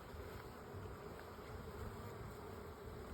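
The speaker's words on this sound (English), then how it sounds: "Just listen to the bees while I'm gone." Honey bees buzz steadily at an open established beehive, a soft continuous drone of many wings with no voices, heard close but faint.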